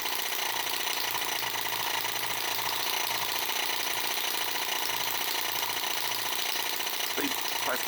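An Eachine M18 Microcosm model engine running, a close, loud, continuous buzzing drone holding steady and even with no pause, no talk in the clip.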